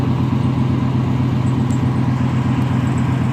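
A 1994 Chevrolet Silverado truck engine runs loud and close with a steady, even idle rumble that holds unchanged throughout.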